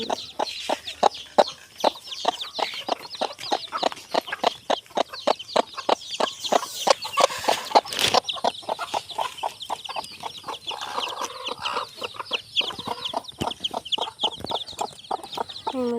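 A desi hen with newly hatched chicks clucks repeatedly in short, rhythmic bursts, close by, with other bird chatter in the background and no talking.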